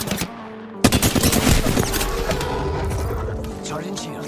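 Rapid automatic gunfire from a video game, loud and sustained in dense bursts after a short pause, with a voice talking over it.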